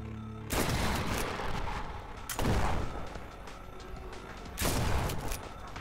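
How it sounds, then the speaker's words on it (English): Shotgun firing in the horror game In Sound Mind: three heavy, booming blasts spaced about two seconds apart, each with a long, rumbling decay, loud and close with no talking. "We try the shotgun."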